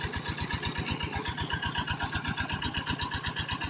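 Small engine of a water pump running at a rice field, a steady rapid thumping putter with an even pulsing rhythm, close and fairly loud, with no talk.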